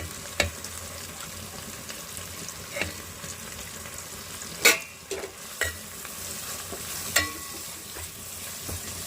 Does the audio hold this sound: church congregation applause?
no